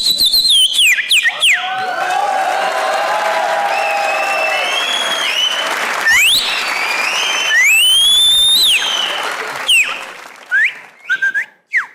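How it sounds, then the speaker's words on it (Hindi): A studio audience at a comedy talk show claps steadily while several sharp, rising whistles cut through the applause. The sound is loud and continuous, then breaks into scattered claps near the end. "इतने लड़के, इतनी कम सीटियां।"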